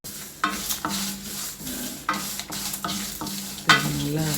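Urad dal dry-roasting in a pan, with repeated scraping stirs of a spatula over a dry crackling rattle, close and fairly loud, in a steady rhythm of strokes.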